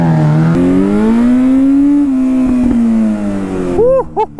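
Yamaha R6 sportbike with an upgraded front end and custom exhaust, ridden in a steady loud engine drone that rises and falls in pitch, shifting near the end into quick revving blips.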